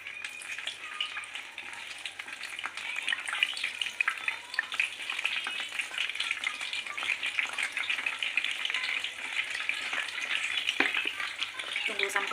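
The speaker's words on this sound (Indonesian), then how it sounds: "minyak gorengnya udah panas ya, tinggal kita masukkan tempe gorengnya." Tempeh sizzles and crackles frying in hot oil, a steady hiss with scattered pops throughout, close and fairly quiet, with no voices.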